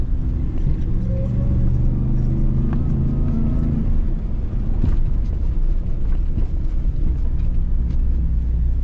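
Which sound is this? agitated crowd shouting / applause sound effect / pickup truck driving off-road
pickup truck driving off-road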